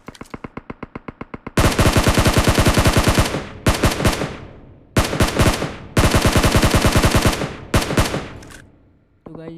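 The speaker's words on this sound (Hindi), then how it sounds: "तो मैं इस पर लेता हूँ फायर, बट कोई भी शॉट कनेक्ट नहीं होता।" Automatic gunfire in the PUBG Mobile battle game: loud, close, rapid-fire bursts. A short, lighter rattle comes first, followed by several long sustained volleys separated by brief gaps.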